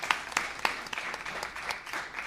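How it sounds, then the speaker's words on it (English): A seated audience at a Creative Capital info session applauds a speaker, a steady patter of many hands with a few sharper, distinct claps standing out near the front. "So a round of applause for Carol."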